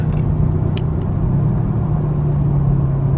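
Mercedes CLS 550 with a Magnaflow X-pipe exhaust pulling hard on a freeway in manual mode, a loud, steady, deep engine drone with road rumble throughout.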